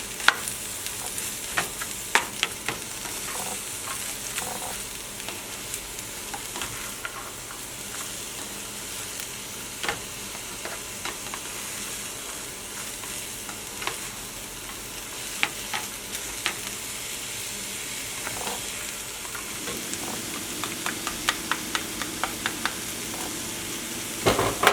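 Cabbage stir-frying in oil, a steady bed of crackling sizzle with scattered sharp clicks of a utensil scraping and stirring the pan throughout, close and moderately loud, no talking.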